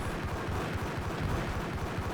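Sustained gunfire in the video game Max Payne, a dense continuous rattle of rapid shots filling the whole moment, loud and close with no pauses.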